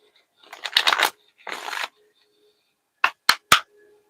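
Tarot cards are shuffled up close in two short riffling bursts, followed by three sharp taps of the deck settling on a surface, in an otherwise quiet room.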